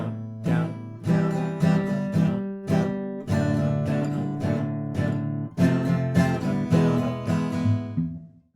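Acoustic guitar strumming chords in a steady down-up pattern, loud and close, with ringing chord changes and no voice.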